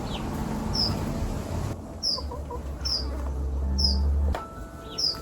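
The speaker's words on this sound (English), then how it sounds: "Oh, the birds are so loud this morning." Morning bird calls repeat every second or so over a steady low hum and background noise, the chirps sharp and fairly loud against the ambience.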